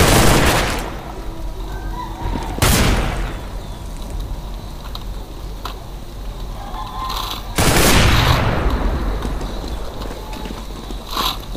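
Gunfire in Counter-Strike: Source: three loud, sharp bursts of shots, spaced a few seconds apart, over a constant background of battle noise.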